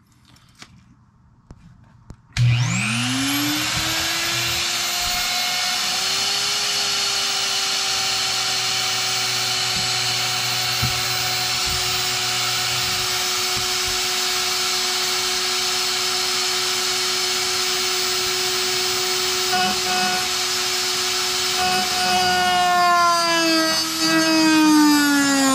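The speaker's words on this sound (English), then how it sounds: "I'm going to use a roto zip tool. This is actually a Mastercraft Maximum roto tool, with a cutoff wheel on it to try to cut that off" A Mastercraft Maximum rotary tool fitted with a cutoff wheel cuts through material, starting abruptly into a loud, sustained high-pitched whine that holds steady for over twenty seconds, close and alone with no talking.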